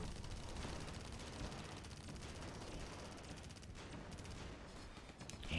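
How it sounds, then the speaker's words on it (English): Goliath unit firing in the strategy game AirMech Strike: faint, sustained rapid gunfire chattering steadily throughout, dense and continuous with a slight swell near the end. "Only that one Goliath is shooting"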